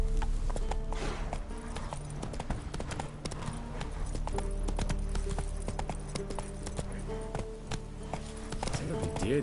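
Roach, Geralt's horse in The Witcher 3, gallops with a steady, close rhythm of hoofbeats over a busy bed of game music and town ambience, while voices talk in the background throughout.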